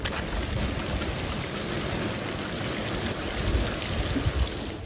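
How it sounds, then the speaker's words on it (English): Water pouring onto soil over newly planted oca tubers, a steady, close, rain-like splashing and trickling that continues throughout without talk. "Then water them in."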